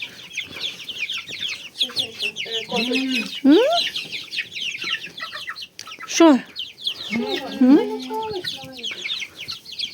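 Several roosters cluck and call near a person on a farm, giving short bursts and warbling notes over a scratchy background, while someone talks to the birds.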